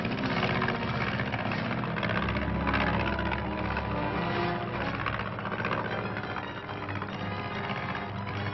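A small patrol airplane droning steadily overhead, its propeller engine a continuous loud hum that swells slightly midway and then eases, with no voices.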